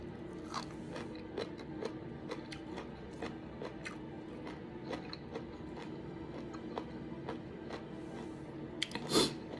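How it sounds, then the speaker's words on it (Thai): Crunchy fresh sea seaweed being bitten and chewed up close, with a steady run of crisp, crackling bites and chews repeating for several seconds and a louder crunch near the end, alone without talk. "อันนี้เหมือนจะเหนียวนะ แต่กรอบมาก"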